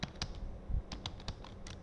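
Computer keyboard typing, a few scattered keystrokes in a short, uneven burst, close and quiet with no voices.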